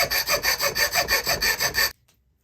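A hand saw cuts into a knife blank clamped in a vise for a bushcraft knife, about ten even, rhythmic rasping strokes, close and loud, then sudden silence.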